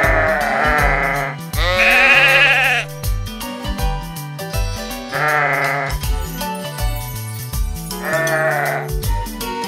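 Sheep bleat loudly in a toy story scene, three long wavering cries spaced a few seconds apart over busy music.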